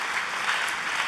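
A church congregation at an Indonesian-language service breaks into brief, lively applause, a dense burst of clapping heard for about a second.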